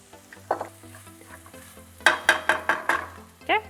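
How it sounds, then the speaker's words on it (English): Red sauce is mixed into heart of palm pasta and meatballs in a pan, with soft sizzling, then a quick run of five or six sharp scraping strokes of a utensil and one last scrape, close by, with no voices. "I'm gonna mix all of it together. I'm going to add some red sauce."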